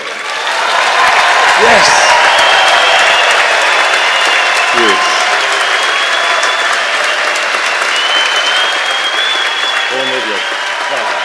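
Parents in a graduation audience for Economic and Management Sciences cheer and applaud in a big hall. The clapping is loud and sustained, with a host's voice speaking over it now and then.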